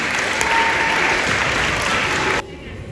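Audience applause after a liquid nitrogen science demonstration, loud dense clapping from a crowd that cuts off abruptly just before the end, leaving quieter room noise.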